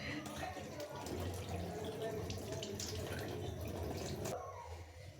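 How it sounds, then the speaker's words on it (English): A fresh tilapia fish is washed under running tap water, with a steady splashing stream and dripping close by. The flow cuts off near the end, and a voice is faintly heard. "So let me wash this fish first."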